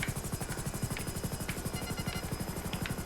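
Helicopter in GTA 5 heard alone, its rotor thumping in a fast, steady rhythm at moderate volume.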